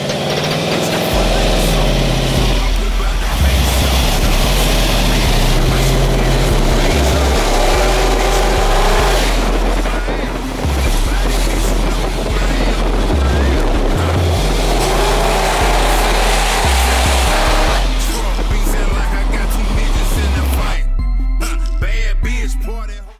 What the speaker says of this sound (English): Right now we got the big block on it, 496 with the blower.